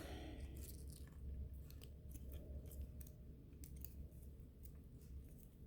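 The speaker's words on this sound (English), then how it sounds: "So I'm just going to trim off some of my ferns here." Scissors trim artificial fern stems for home decor, producing a string of soft, crisp snips that sound close but faint against a quiet background.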